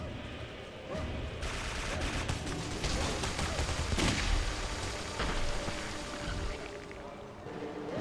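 Gunfire from the shooter video game Clive Barker's Jericho: dense bursts of rapid shots and loud blasts in a continuous barrage with mechanical clatter, staying intense throughout before tapering slightly at the end.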